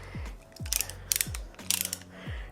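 A ratcheting brake caliper piston compressor tool clicks as it is cranked to push the piston back into a disc brake caliper, giving several sharp mechanical ratchet bursts in an uneven rhythm, close and clear with no talking.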